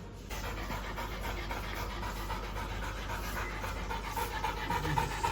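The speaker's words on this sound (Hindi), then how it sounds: "हाँ अब इतनी बड़ी जीभ निकाल के बैठे, हाँफते रहो।" A labrador pants steadily and close by with its tongue out after a walk, the quick breaths continuous and fairly loud throughout indoors.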